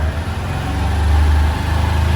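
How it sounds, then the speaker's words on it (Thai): A close 2021 Honda Wave 110i fuel-injected motorcycle engine rumbles steadily, then its pitch rises briefly as it revs to about 4,000 rpm before settling back to a low, continuous drone. "เดี๋ยวผมลองเร่งเครื่องนะ"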